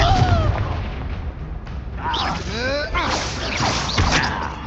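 Fiery Confringo blasting spells burst during a wizard duel in Hogwarts Legacy, loud and repeated booms over a busy, noisy battle bed, with combat shouts and voices heard throughout.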